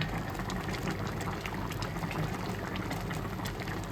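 Ghee and homemade garam masala sizzle and bubble in a pan for an egg dish, a steady, dense crackling simmer that fills the whole clip without pause.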